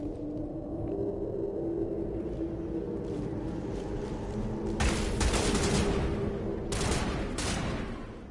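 Gunfire rattles in Mass Effect 1 over a droning game backdrop, with bursts of rapid shots swelling loud midway and again near the end.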